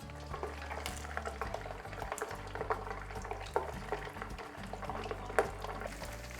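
Battered orange chicken pieces fry in oil heated to 180 degrees for a second round, giving a steady dense bubbling sizzle with small pops and crackles throughout.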